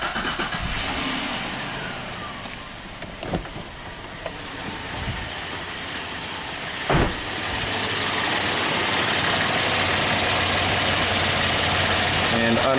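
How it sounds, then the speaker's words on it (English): A car engine cranks and catches, then settles into a steady idle that runs loud and close for several seconds, with a couple of sharp clicks and knocks near the start. "So warm up the engine, engine's idling."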